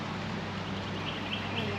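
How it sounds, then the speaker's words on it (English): Ducks quack faintly in the distance near an outdoor fishing spot, a few soft calls over steady background noise. "They're going right for them ducks."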